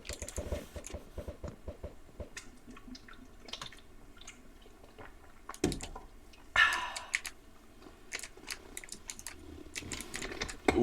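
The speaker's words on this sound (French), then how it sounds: "c'est ton clavier qu'on entend?" Rapid computer keyboard typing comes through a Discord voice chat microphone as uneven bursts of close clicks and clacks. It includes a few louder thumps, and a brief noisy rustle breaks in partway through.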